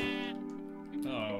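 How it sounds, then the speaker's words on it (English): A single sheep in Minecraft gives a long wavering bleat, followed by a second higher call near the end, fairly loud and close. "Oh, we found a sheep."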